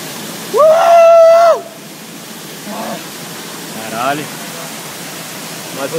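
A waterfall in Shiga, Japan gives off a constant, even rush of falling water. A brief loud whistle-like tone sounds near the start, and faint voices surface now and then over the roar.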